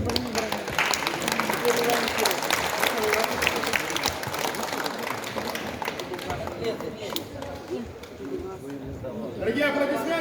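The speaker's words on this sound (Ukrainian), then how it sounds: "Дорогие аплодисменты!" An audience applauds at a master class, a dense, sustained wash of clapping lasting the whole stretch with voices mixed in, fairly loud and close.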